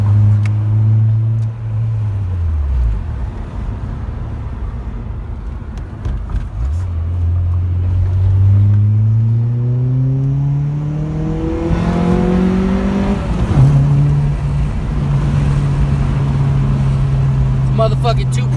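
A 1999 Honda Prelude's 2.2-liter engine revs up and down repeatedly, with loud rising and falling engine tones over a constant rumble and a person talking over it.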